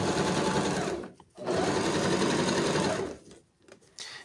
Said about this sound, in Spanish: Solamente voy a coser con la posición de la aguja a la izquierda para que me quede más cerca la costura de los dientitos del cierre